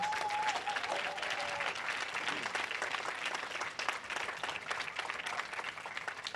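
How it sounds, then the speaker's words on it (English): Sustained applause from a crowd gathered at a peaceful demonstration against hate in Easthampton, a steady dense wash of clapping that stays loud throughout, with a brief whistle-like tone early on. "So give yourselves a round of applause."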